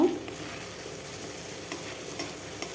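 Mustard and poppy seed paste frying in oil for a pomfret fish dish, a steady close sizzle with soft stirring scrapes throughout, opening with a brief louder burst and no voices.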